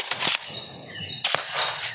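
A homemade Nerf blaster fires twice, each shot a sharp close snap followed by a quick hit, spaced about a second apart.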